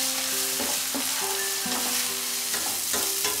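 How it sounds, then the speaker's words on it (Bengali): Ginger and garlic paste fries over medium heat in a pan, giving a steady broadband sizzle with a few stirring scrapes and clinks spread through, close and continuous, with no talk. "আদা রসুনটাকে আমি আবারও 2-3 মিনিট ফ্রাই করব মিডিয়াম আঁচে।"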